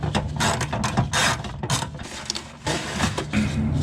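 Ratchet working corroded bolts loose while a Toyota's front bumper is removed, heard as close, uneven bursts of mechanical clicking with brief pauses between strokes.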